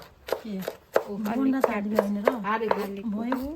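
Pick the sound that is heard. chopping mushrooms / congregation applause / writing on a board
chopping mushrooms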